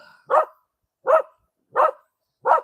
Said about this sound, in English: My dog is happy. You can tell. Oh, he's so talkative.